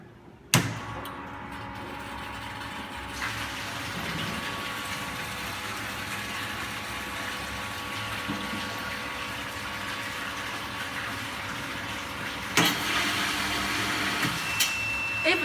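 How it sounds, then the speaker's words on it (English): A raw water pump and a high pressure pump run together in a water treatment system: a sharp start followed by a steady mechanical hum and whir. A few clunks sound near the end. "the raw water pump to auto condition, and the high pressure pump also auto condition, and then turn on the total power."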